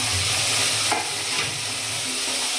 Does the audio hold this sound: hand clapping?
no